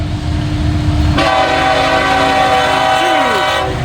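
A locomotive sounds its horn, a loud sustained multi-tone blast that starts a second in and holds over the heavy rumble and clatter of a passing train with three locomotives.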